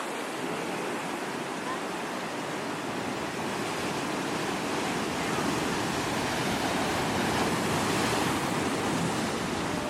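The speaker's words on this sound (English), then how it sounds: "the waves here are absolutely crazy, and I can't believe there are people surfing." Big surf pounds along the Australian coast where people are out surfing, a continuous heavy roar of breaking waves that swells slightly louder toward the end, with no clear talk.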